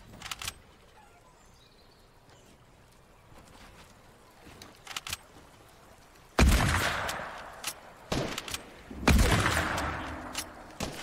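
Gunfire in the Fortnite video game: a couple of sharp, loud bursts with ringing tails stand out from a quiet, faintly busy background, with a few smaller clicks between them.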